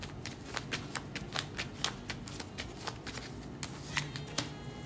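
Tarot cards are shuffled by hand in a rapid, rhythmic series of crisp riffles and flicks, close up and continuous.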